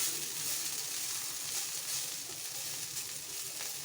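Food sizzles and fries steadily in a pan on a gas stove, a continuous bright hiss at even loudness, close by and without any talking.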